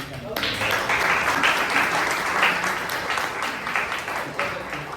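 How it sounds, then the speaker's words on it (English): Sustained audience applause fills a Toastmasters club meeting in Bangalore, a dense steady wash of many hands clapping at moderate loudness for the full stretch, with faint voices underneath. "Can you please have a big round of applause for everyone who were on there?"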